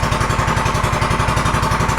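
A Predator 212 Ghost engine idles on a Manco 458 go-kart with a steady, loud, fast-pulsing chug, close up and unbroken, with no voices over it.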